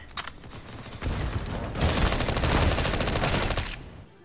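Revolver gunfire in the shooter game CS:GO, a dense close burst of repeated shots firing for about three seconds in a loud sustained clatter before cutting off.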